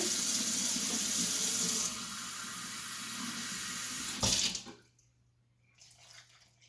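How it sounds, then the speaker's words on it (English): Cold water running from a kitchen tap for cauliflower batter, a steady splashing stream that drops in pitch as the flow changes, then a louder gush before the tap shuts off, leaving near silence and faint drips. "I'm going to put another cup of cold water"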